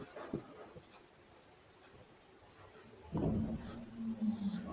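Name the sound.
writing on paper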